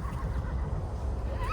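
A rescue mare neighs over a steady low rumble, with a brief rising whinny near the end, close and fairly loud.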